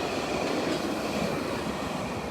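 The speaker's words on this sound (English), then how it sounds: "The tram is going by." A tram rumbles past nearby in a steady, continuous roar of wheels on rails, with faint metallic rattling and no pauses.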